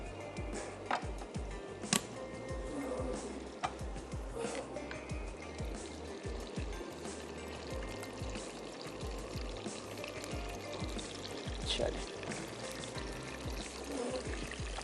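Prepared tomato puree is poured into a pan with oil and ginger-garlic paste for matar paneer, making a steady thick liquid pour and trickle up close, with faint clinks throughout.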